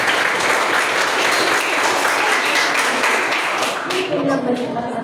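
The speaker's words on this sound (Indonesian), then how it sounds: "kasih aplaus dulu buat teman-teman" A seminar audience claps for fellow presenters, a dense, steady burst of applause that runs loudly for several seconds and then begins to thin toward the end, with a few voices rising underneath.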